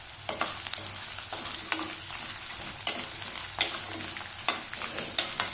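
Asafoetida and broken dried red chillies frying in hot oil for an Andhra-style coriander thokku, a steady close sizzle broken by several sharp clinks and scrapes of a spoon stirring the pan.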